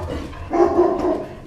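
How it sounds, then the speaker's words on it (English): A dog barks once or twice in a short, muffled burst, fairly close, over a quiet indoor background. "that's your dog"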